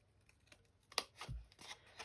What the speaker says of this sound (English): I love my paper snips.